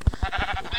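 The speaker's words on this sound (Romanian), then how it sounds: "M-am găsit încă o oaie" A sheep in a multiplayer survival video game gives a short, close, wavering bleat, a single quick burst of pulsing cries.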